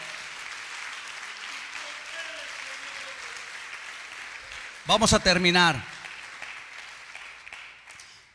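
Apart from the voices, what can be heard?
congregation applause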